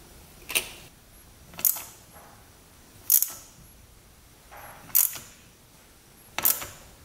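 A ratchet tightens a bolt on the shift drum of a two-stroke race quad. Five sharp, close clicking bursts come at roughly regular intervals with quiet between them.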